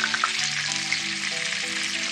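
Eggplant slices frying in hot oil, a steady close crackling sizzle with scattered small pops, running on alone without talk.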